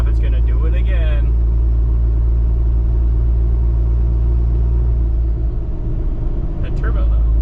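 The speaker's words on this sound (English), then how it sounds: "That turbo though." A Cummins diesel engine with a turbo runs with a loud, steady, deep rumble throughout, while brief voices surface near the start and end.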